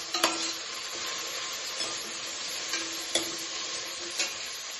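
Mango mutton curry being stirred in AMC cookware, a continuous hissing sizzle with several distinct scraping strokes and light knocks of the spoon against the pot, close and steady.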